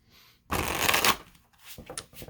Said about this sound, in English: or shuffle the deck, and then we'll cut it.